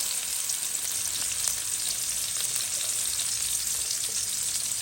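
Onion sizzles in hot oil while a shol fish, cauliflower and potato curry is being cooked, giving a steady, close frying hiss that runs unbroken with no voices.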